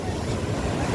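Ocean waves and surf at a beach roll continuously and loudly, mixed with strong wind rumbling across the microphone.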